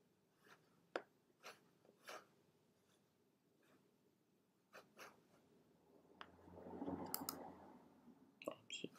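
Two quick computer mouse clicks stand out among scattered faint ticks and light desk noises, quiet and close.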